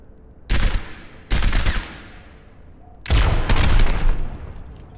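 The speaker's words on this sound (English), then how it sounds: "Fire your helix rockets at the targets." Helix rockets fire and explode in the Overwatch video game, giving three sharp, loud bursts, each one trailing off in a rumbling decay, with no talk.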